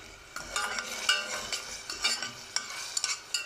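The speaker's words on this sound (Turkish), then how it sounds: "Şimdi onu soğanla kavuralım." Onions sizzling in olive oil in a pan while a utensil scrapes and stirs, with irregular clinks and scraping strokes over a soft frying hiss.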